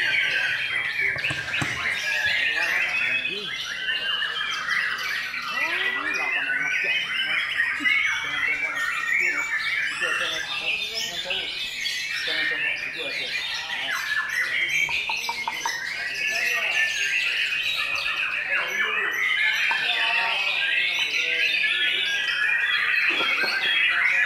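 Many magpie robins chirp and whistle constantly in bright overlapping phrases at a songbird contest, a dense busy chorus with faint voices murmuring underneath.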